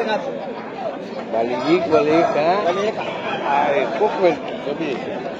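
Chickens cluck and chatter amid a busy Sunday pet market at Pileru, with people talking over the birds throughout.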